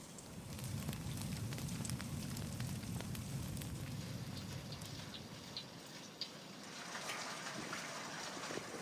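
Potato fries crackle and sizzle in hot oil, a dense close bubbling hiss with scattered pops that runs steadily throughout and softens slightly near the end, without any talk.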